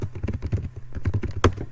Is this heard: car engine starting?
no